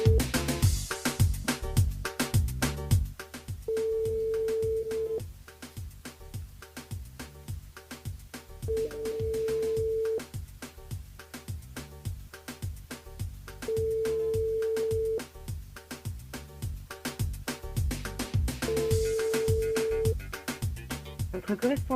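A repeated electronic tone plays as a phone call fails to connect during a radio call-in game. Four long steady beeps sound at even intervals over loud background music.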